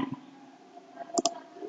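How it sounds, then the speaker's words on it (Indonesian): Computer mouse clicks while setting a Windows picture password, a quick double click standing out near the end over quiet room tone. "Kita klik coba ya."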